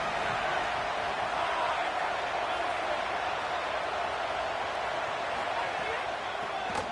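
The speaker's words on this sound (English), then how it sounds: "This crowd ready to make its presence known." A stadium crowd in an EA Sports College Football video game roars in a steady, broad wall of noise throughout, with a commentator talking over it.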